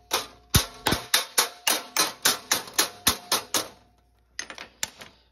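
Steady, evenly spaced square-faced hammer blows ring on sheet metal up close while shaping a 1960s C10 upper cowl, about a dozen in a row, then a pause and a few lighter taps.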